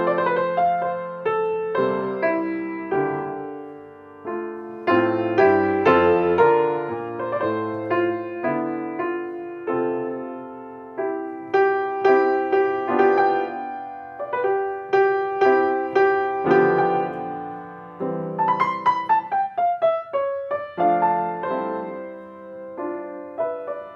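Solo piano playing a flowing legato melody with the sustain pedal, notes blending smoothly into one another, sustained and ringing over each other.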